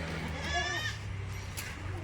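A large milking goat gives one wavering, drawn-out bleat near the start, heard over a steady low rumble of background noise.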